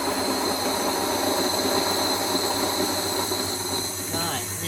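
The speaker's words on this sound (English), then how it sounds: "Looks like my grains have stopped milling" A home grain mill grinds wheat berries with a steady, loud mechanical whir and hum that runs unbroken throughout.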